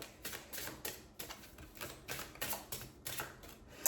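Cards being shuffled by hand, a series of quick crisp riffling bursts in an uneven rhythm, close and fairly loud, with no talking.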